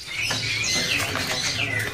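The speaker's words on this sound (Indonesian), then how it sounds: "Di sini juga ready burung beranjangan piling ya." A beranjangan piling Kalandra lark at a bird kiosk gives bright, repeated chirping calls over a low hum of market background noise.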